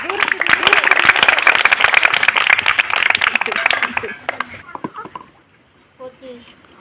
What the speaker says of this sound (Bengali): সবাই একটা হাতে তালি হয়ে যাক